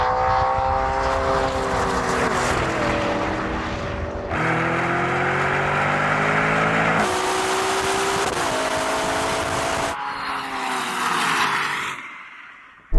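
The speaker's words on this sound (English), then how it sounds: "this revs all the way up. It sounds beautiful when it's up there." A sports SUV engine revs hard at high pitch during a race, climbing through several gear changes, sustained and close, then cutting off abruptly.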